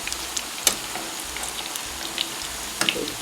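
Potato fritters (mücver) fry in oil in a pan with a steady, close sizzle, broken by a few sharp crackles and pops.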